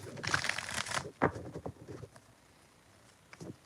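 Tarot cards being shuffled by hand, a burst of rapid papery riffling followed by several shorter quick shuffles, close and fairly loud, then near silence with one last brief flick at the end.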